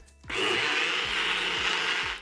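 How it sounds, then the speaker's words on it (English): Well-worn NutriBullet blender whirring loudly and close, with a steady high-pitched motor roar that starts abruptly and runs for about two seconds while blending a habanero pumpkin hot sauce. "This NutriBullet's definitely been through some stuff in its lifetime. Beast of a blender."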